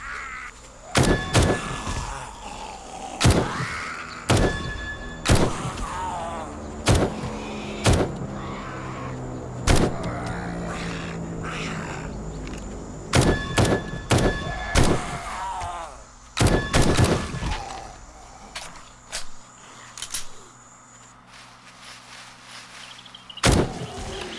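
A gun fires 7.62 rounds at a small zombie horde in 7 Days to Die (Alpha 19). The shots are sharp, loud single cracks at irregular intervals, some in quick pairs, with quieter game ambience between them.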